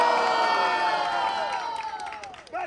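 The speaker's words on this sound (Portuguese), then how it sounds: "Barulho, quem gostou das rimas de Breno?" Crowd cheering and whooping at a street rap battle final in Itaquera, São Paulo, a dense, loud roar of voices with shouts and some clapping that swells and fades over a few seconds.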